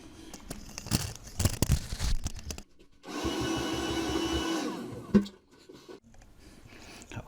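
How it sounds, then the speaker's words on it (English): A vacuum cleaner sucks dust out of a Moulinex bread machine under repair, preceded by rustling and handling clatter, then a steady whirring drone for about two seconds that cuts off with a knock, followed by quieter handling noises. "Let me have my vacuum to get rid of that."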